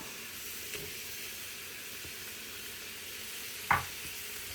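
Ginger hitting a hot pan for a vegan African peanut stew gives a brief, sharp sizzle burst against a steady low background hiss of cooking, sitting close and alone without talk.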